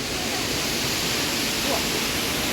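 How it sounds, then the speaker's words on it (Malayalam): Meenmutty waterfall near Kallar pours in a steady, loud roar of rushing water, a dense unbroken wash of noise with no pauses. "മീൻമുട്ടി വെള്ളച്ചാട്ടം"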